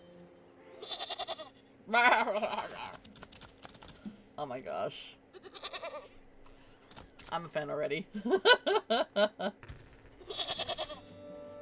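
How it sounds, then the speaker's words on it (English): Goat bleats from the video game Wytchwood, several wavering cries in bursts over the game's ambience, with a person talking over them and rapid keyboard typing between. "Goat!"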